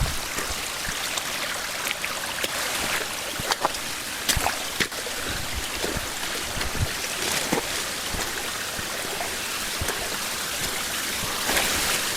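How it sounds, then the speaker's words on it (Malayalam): Mountain stream water rushes and splashes continuously nearby in a forest, a loud, broad, even flow with no talking. "മലവെള്ളം ഒഴുകി വരുന്ന വെള്ളമൊക്കെ"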